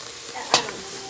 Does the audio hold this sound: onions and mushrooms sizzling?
yes